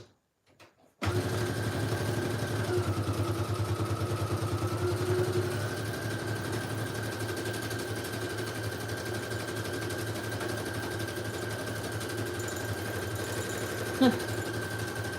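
A sewing machine runs steadily while stitching around a book page pocket tag, a close, continuous mechanical whir with a fast rhythmic chatter that shifts pitch slightly partway through, with a brief click near the end.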